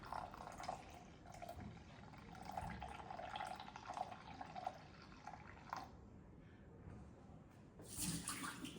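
Warm water is poured onto a kitchen scale while making sourdough bread, a quiet, close trickle and splash of liquid with a few drips, ending in a brief louder gush.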